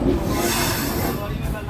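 Lichchavi Express passenger train rolling on rails near Bhatni Junction, a steady close rumble of wheels and carriages with a faint hiss, continuous throughout without pause.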